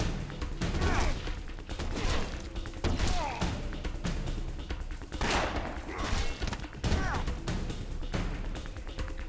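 Repeated gunshots and impacts from allied soldiers firing in Afterfall Insanity, dense and close in irregular bursts across the whole stretch.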